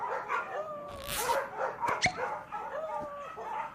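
Cartoon dogs yip, bark and whimper in a rapid overlapping run of high cries, with a sharp bang partway through, from an animated 1990s show.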